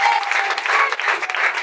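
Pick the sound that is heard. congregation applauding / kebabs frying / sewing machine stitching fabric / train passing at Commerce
congregation applauding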